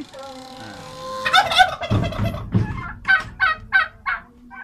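Turkeys on a turkey farm in Feni, Bangladesh, gobble in a series of rapid, rattling bursts, close and loud, with several birds calling one after another.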